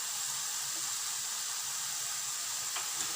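Noodles fry in a pan with red chilli sauce, giving a soft, steady sizzling hiss at low volume with a faint tap near the end.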